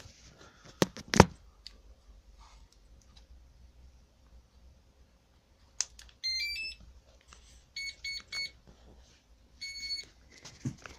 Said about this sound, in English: The ESC's all beep.